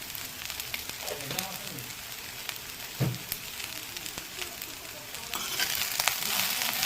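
Dhekiya greens frying with salt and turmeric give a steady soft sizzle under occasional stirring knocks, with one louder clatter midway and the hiss swelling toward the end.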